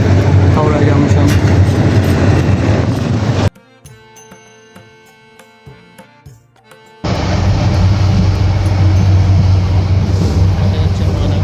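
The Mohanagar Express running at night: loud, continuous rumble of the moving train, cut midway by a few seconds of near-quiet with faint clicks before the heavy roar resumes.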